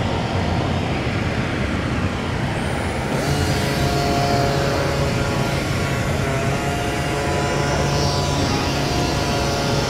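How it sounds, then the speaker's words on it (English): A SurfPrep collaborative robot drives a foam pad across a center panel, giving a loud, steady mechanical whir and hiss with sustained tonal hum that holds throughout without pause. "Now it's going to go measure, or sand the center panel with the foam."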